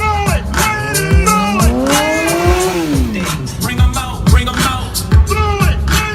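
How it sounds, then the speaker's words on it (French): A Suzuki GSX-R 750 stunt motorbike warms its tyres at a stunt riding show. Its loud engine revs rise and fall in repeated sweeps, with tyre squeal and a sharp blip close by. "On rechauffe un petit peu les pneus du GSXR 750 de Sarah."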